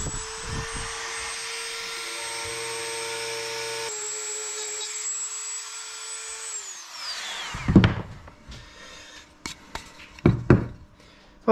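A Dremel rotary tool plunge-routing a small cutout in sapele wood gives a steady high-pitched motor whine with a buzzing cutting tone, then spins down. A few sharp knocks and clatters follow as it is set aside.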